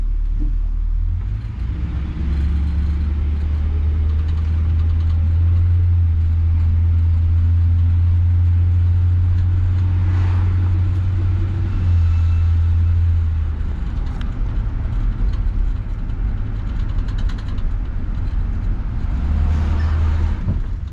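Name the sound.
1966 Ford Galaxie 500 car driving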